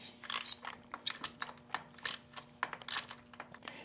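Socket wrench working loose the shift linkage hardware on a Harley-Davidson motorcycle's foot controls, a quick run of quiet ratcheting clicks in short irregular bursts, close and faint.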